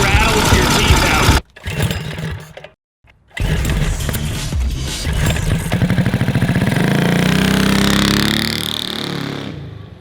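A small turbocharged 10 HP diesel engine on a bolt-together go-kart chugs loudly nearby, cutting out briefly twice, then revving in a steady rising climb before easing off.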